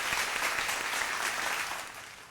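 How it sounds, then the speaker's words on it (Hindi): Studio audience applause on a Ramadan quiz show, a dense steady wash of clapping that fills the whole stretch and tapers slightly toward the end. "थैंक यू, तालियां।"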